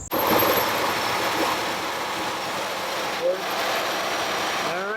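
A 2016 Ford F-150 engine runs after a belt and AC tensioner replacement, producing a steady, close whirring hum with no clear knocks or squeals.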